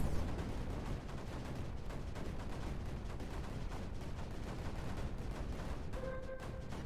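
Cannon fire in the strategy game Creeper World 4, a dense, continuous barrage of rapid booming shots with no pause, steady and fairly loud, with a few brief tonal blips near the end.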